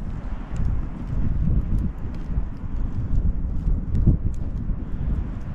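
Strong wind roars and buffets steadily against the microphone at a December campfire, a dense low rumble with gusts swelling throughout.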